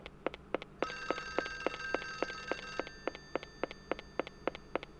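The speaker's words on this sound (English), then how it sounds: "I don't know where the phone is." A telephone rings in the video game Clock Tower, a regular train of sharp clicking rings over a low background drone, with a brighter ringing tone that swells for about two seconds in the middle.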